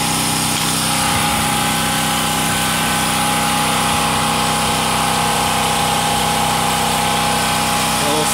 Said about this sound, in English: 9-amp grinder.